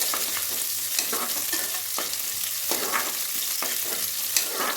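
Onions fry in a hot pan until light brown, a constant close sizzle with regular scraping stirs of a spoon running through it.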